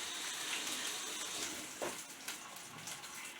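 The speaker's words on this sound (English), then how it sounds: "Right, wash my hands" Hands washed under a running kitchen tap, a soft steady stream of water with brief splashes and shifts as the hands move through it, fairly quiet and with no voices.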